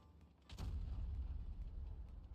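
A heavy tank cannon shot booms out at about half a second in World of Tanks Blitz, and a deep rumble carries on through the rest of the clip at a steady, loud level.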